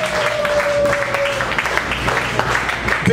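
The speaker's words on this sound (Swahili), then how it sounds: "Pesa makofi ya utukufu." A church congregation at a prayer service claps together, a busy layer of applause with a few brief voices and a faint sustained tone mixed in, all fairly close.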